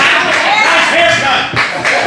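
An audience at an open mic comedy night in Richmond, Virginia claps for a comedian, a dense, close burst of applause that swells and dips briefly while voices mix in.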